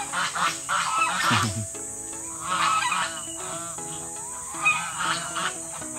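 Geese at a market selling them, several birds honking loudly in repeated bursts from close by, with quieter gaps between calls.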